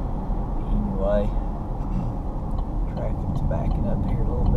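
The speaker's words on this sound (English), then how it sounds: "traffic's backing up here a little bit where I gotta get off" Road traffic backing up near an exit, a steady low rumble of vehicles heard from inside a car, with some faint tonal sounds over it.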